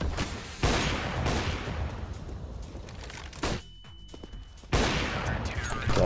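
Bursts of dense gunfire in a video game blast loudly, broken by a short quieter lull before another volley, with players talking faintly underneath.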